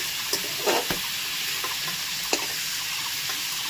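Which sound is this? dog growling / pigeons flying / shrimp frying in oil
shrimp frying in oil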